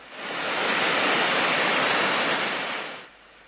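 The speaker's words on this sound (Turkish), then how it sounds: "Yaklaşık 20 metre yükseklikten akan şelalenin buzla kaplı görüntüsü farklı bir güzellik sunarken" A waterfall about 20 metres high, partly ice-covered and thawing, roars as a steady, loud broadband rush of falling water that swells in, holds, then drops away abruptly near the end.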